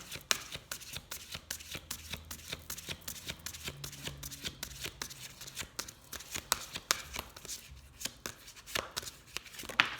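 A deck of oracle cards being shuffled, with steady rapid riffling and soft slaps of cards close by, continuing without pause and with no talking.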